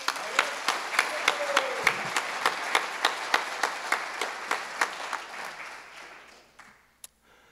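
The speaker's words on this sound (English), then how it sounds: "How about a round of applause" Audience applause at a motivational speech event honoring a football coach: rhythmic, almost unison clapping with evenly spaced sharp claps, steady at first, then thinning and fading out, ending with a single late clap.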